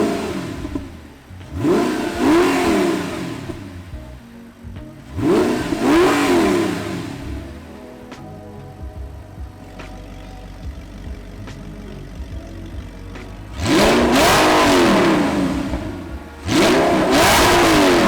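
An Audi R8 V8 with a Valvetronic exhaust revs loudly in repeated sharp bursts, each climbing and falling back to a rumbling idle between them, close and aggressive.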